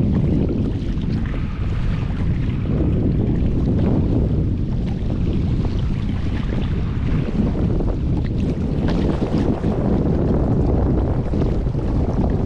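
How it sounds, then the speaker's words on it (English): Steady, heavy onshore wind roaring across choppy open water off Big Pine Key, with rough, gusty buffeting on the microphone and a low rumble throughout, no voices. "choppy day, a little windy"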